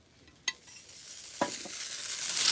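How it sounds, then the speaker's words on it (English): Garlic, ginger, chilies and onions stir-fried in oil for Hokkien noodles: a soft sizzle that builds steadily, broken by a few clattering scrapes of the stirring utensil, with no talking. "Garlic, ginger, chilies, onions. I'm just going to stir that for a bit."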